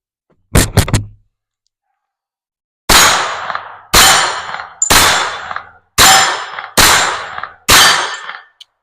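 A Colt 1908 .25 ACP pocket pistol fires at an outdoor range: a quick pair of sharp reports, a pause, then six loud, evenly spaced shots in a steady rhythm, each trailing off with a short ringing decay.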